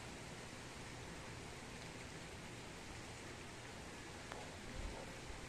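Steady rain falls on a wet, empty street during sunshine, a constant even hiss of drops on pavement that stays fairly faint throughout, with no voices.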